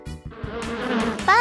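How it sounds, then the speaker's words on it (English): A bee buzzes in a steady, close, moderately loud drone that holds for about a second and a half, heard alone. "A bee makes a buzz sound."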